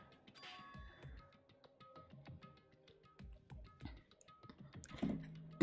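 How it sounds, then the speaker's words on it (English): Keyboard typing in the video game Danganronpa: Trigger Happy Havoc, a run of light, separate key clicks with small chime-like tones between them, ending in a louder burst. "You see what Kyoko is doing with that keyboard?"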